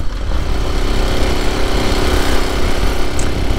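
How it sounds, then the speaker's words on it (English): A Honda SS90 motorcycle with an up-and-over exhaust runs at a steady, even engine drone. It sounds close and loud throughout, with no speech. "really nice sound off the bike. I personally love the up and over exhaust system on it."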